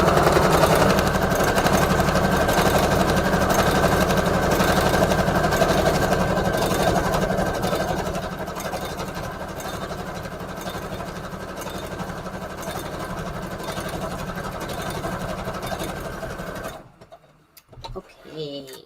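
A sewing machine stitches through a scrap paper collage with a rapid, steady mechanical whir that softens midway and stops abruptly near the end, leaving brief quiet handling noises.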